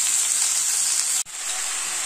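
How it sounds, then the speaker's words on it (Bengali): Potatoes and onions, cut into thin strips, fry in a pan with a steady bright sizzle and hiss that cuts out for an instant, then resumes. "কিছুক্ষণ আমি ভেজে নিয়েছি আলু পেঁয়াজটা"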